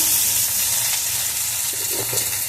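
Spice masala with salt sizzles steadily while being sautéed in a pan for a prawn dish, a constant loud frying hiss with faint stirring scrapes and no talk.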